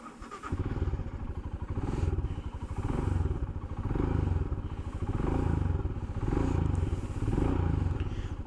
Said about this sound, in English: Now listen to the stock exhaust sound of this bike.